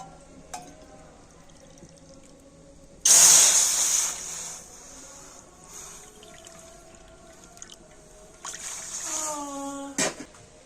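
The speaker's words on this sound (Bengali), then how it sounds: "আর এবার আমি কড়াতে দিয়ে দেবো জল।" Water is poured from a bowl into a karai pan in a home kitchen, a brief loud splashing gush lasting about a second, with faint clinks and handling noises before and after.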